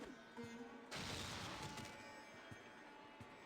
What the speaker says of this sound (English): Throw a plasma grenade.